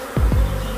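A brief, close buzz of a honeybee swarm with a couple of quick swells, bees droning around at close range.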